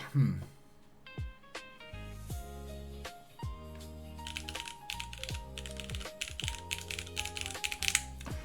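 Someone types on a mechanical keyboard fitted with GMK keycaps, giving quick clacky bursts of keystrokes. Electronic music plays in the background.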